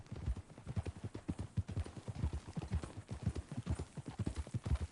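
A horse's hooves clip-clop in a steady, quick rhythm in a video game, heard fairly faint but clear over a low background.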